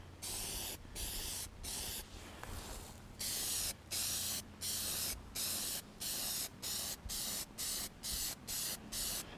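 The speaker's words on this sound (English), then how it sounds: "So go ahead and spray it on here." Repeated bursts of aerosol spraying rubber coating onto a BMX bike, a steady rhythm of short hissing sprays separated by brief pauses, close and fairly loud, with no talking.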